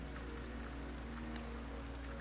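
Subsiding rain in the video game Wuthering Waves, a brief stretch of even, soft patter of raindrops over a low steady hum, with no talking.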